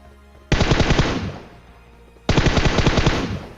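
Two long, loud bursts of automatic fire in a battle-royale shooter game, each a rapid sustained spray that starts abruptly and rings out, separated by a brief quieter gap.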